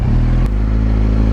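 Kawasaki Z900 motorcycle running during a ride, its engine a loud, close, steady low drone that shifts pitch slightly partway through the short stretch.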